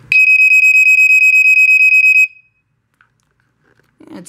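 A Black & Decker SMK6D/M1 smoke alarm sounds a loud, rapid train of shrill pulsing beeps for about two seconds, then cuts off, leaving near silence with a faint rustle at the end.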